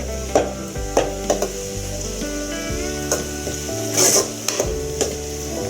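Fish curry ingredients being sautéed over a high flame in a pan: steady sizzling with repeated scraping stirs and clinks at a quick, irregular pace, close and fairly loud, with no talking.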